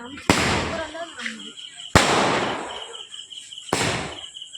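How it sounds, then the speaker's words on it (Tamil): Three loud Diwali firecracker bangs at irregular intervals, each leaving a crackling, fizzing tail, with a faint high whine in the background. "ஊதுவத்தி முடியுது, பட்டாசு எரியுது."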